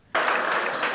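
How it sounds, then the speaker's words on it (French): A crowd bursts into applause suddenly, a dense burst of clapping that continues briefly. "Applaudissements ici pour cet agent en fin de carrière."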